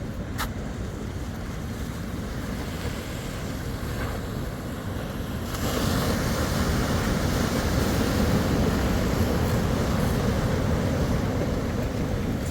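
Large ocean waves breaking at Manhattan Beach, California, a constant wash of surf that swells louder midway, heard with wind noise on the microphone.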